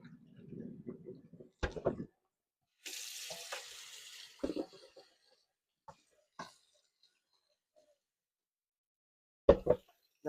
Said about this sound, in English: Then I'm going to run a little bit of cold water in it,